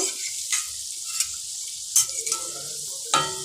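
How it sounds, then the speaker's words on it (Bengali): Malabar spinach pakoras deep fry in oil over low to medium heat with a steady high hiss, broken by a few sharp clinks and scrapes of a utensil against the pan, close and with no voices. "ভেজে নেব, পকোড়াগুলোকে।"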